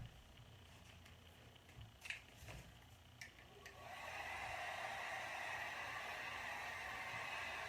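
A hair dryer switches on and blows steadily, drying DIY paint on a hamper, after a few light handling clicks and taps.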